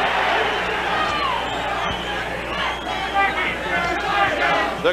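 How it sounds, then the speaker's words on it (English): Boxing crowd roaring and shouting to urge on fighter Jeff Fenech against Azumah Nelson, a loud continuous wall of arena voices with swelling cheers. "The crowd trying to urge him on."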